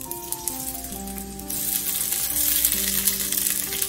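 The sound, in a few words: onions frying in oil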